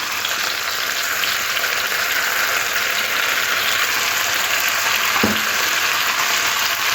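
Vegetables for shukto sizzle steadily in a pan as they are stirred with poppy seed and mustard paste, a constant close frying hiss with one brief soft knock.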